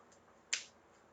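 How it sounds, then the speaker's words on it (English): A single crisp finger snap rings out once, close but quiet, against a near-silent background during a tabletop card game. "Snappy, snappy, so we can snap."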